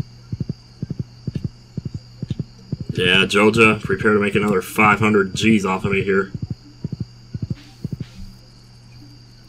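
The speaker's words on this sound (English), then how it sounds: "sleeping on the horse as he walks me home" Horse walking in Stardew Valley, its hooves clip-clopping in an even, steady rhythm under a faint insect hum while someone talks over the middle stretch.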